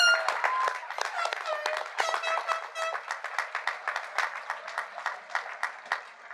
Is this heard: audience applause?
yes